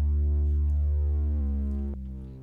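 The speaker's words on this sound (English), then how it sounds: "I've got this sub bass that's got a compressor on as well, and it's a slidey sub bass" A compressed, sliding sub bass synth holds a deep, pure sustained tone that glides in pitch, with a couple of small steps before settling and slowly fading, alone and without voices.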